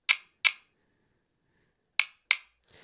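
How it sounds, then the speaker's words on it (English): Synthesized finger snaps from the Hand Clapper app, heard as sharp, dry clicks: a pair early on, a pause, then another pair, with a brief rustling tail at the end. Close, isolated, no voices. "what about seven snaps?"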